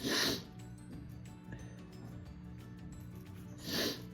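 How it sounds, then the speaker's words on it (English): Someone with allergies sniffles up close: two quick, airy nasal sniffs open and close the moment, with a quiet room hum in between. "excuse me as I sniffle away"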